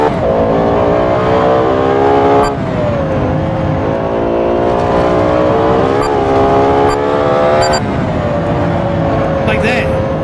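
Lexus LFA engine held high and revving hard during a drift, a steady loud wail with shifting pitch and a few sharp blips and dips, with a voice talking over it.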